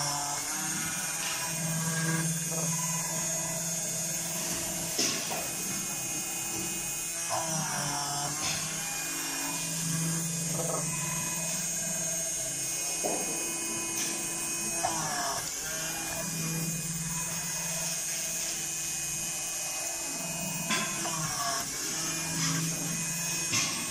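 A drill machine bores holes in a printed circuit board, whining steadily with repeated rising and falling tones as each hole is drilled, a cycle recurring about every five seconds.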